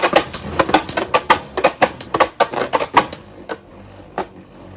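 Beyblade tops clash in a stadium, a rapid series of sharp plastic clacks and scrapes that come in quick bursts, then thin out into a few isolated hits.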